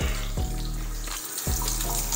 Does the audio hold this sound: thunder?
no